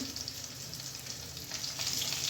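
Diced potato chunks drop into hot oil in a pan for a home-style rohu fish curry, setting off a steady, close sizzle and crackle that swells louder toward the end, with no voices.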